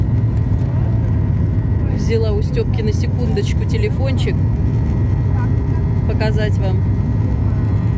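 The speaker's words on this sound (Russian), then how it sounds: "наш взлет, потому что взлет красивый, красивый взлет" Passenger airliner taking off from Adler, heard from inside the cabin: a loud, steady engine roar fills the whole stretch while someone talks over it.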